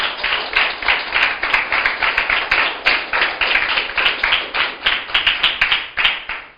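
Church congregation at a Spanish-language sermon clapping in a quick, steady rhythm, sharp close hand claps repeating evenly with slight pulsing groups, with no talking over them.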